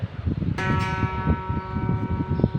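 A single plucked khim string rings out during tuning with a bright, sustained metallic tone, decaying slowly over a low background rumble and faint tapping.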